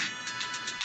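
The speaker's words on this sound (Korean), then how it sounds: "그때 전화가 울리기 시작해요." A phone ringtone plays at an office meal table, a bright repeating electronic pulse sounding about five short beats in under a second, close and alone.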